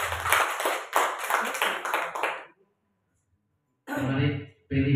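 An audience at a teachers' community sharing session claps for a speaker, Ibu Wani, in a short burst of close, crisp claps that stops abruptly, followed by silence and then someone speaking.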